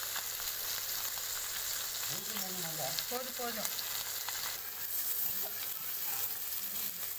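Fish deep fries in plenty of oil in a village kitchen, giving a constant, dense crackling sizzle up close with a brief faint tonal sound partway through.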